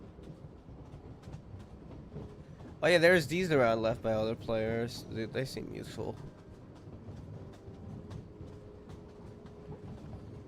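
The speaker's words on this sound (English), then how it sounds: "A little bit of a train ride." Rumbling ride aboard a train in a video game, a steady low rolling drone running beneath a stretch of speech and continuing alone afterward.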